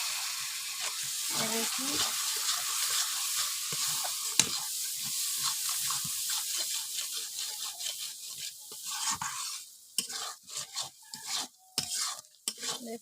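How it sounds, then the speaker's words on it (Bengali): Spices frying in a pan on the stove as water is poured in, bringing a loud continuous hissing sizzle with stirring scrapes; the sizzle eases toward the end into sharper pops and clinks, and a voice speaks briefly. "এই দেখুন হালকা করে দিয়ে দেবো জল,"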